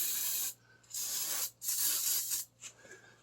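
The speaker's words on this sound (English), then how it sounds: "I'm going to lube that down with some penetrant" Penetrant lubricant sprayed from an aerosol can onto a Ford Escape front brake caliper bracket, three loud close hissing bursts of about half a second to a second each, separated by brief silences.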